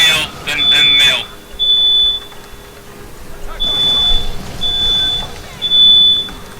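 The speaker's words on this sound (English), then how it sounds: "Our fire alarm's going off." A household fire alarm goes off indoors with a series of loud, piercing, high-pitched beeps in long repeated pulses. A person talks briefly at the start before the alarm takes over.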